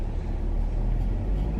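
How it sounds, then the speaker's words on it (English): Car engine idling while it warms up on a cold day, a steady low rumble heard from close by with no speech. "Hold up while my car warms up."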